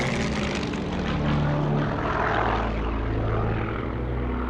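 A Supermarine Spitfire fighter plane's piston engine drones steadily with a loud, rough propeller roar that swells and fades slightly as it passes, heard alone without talk.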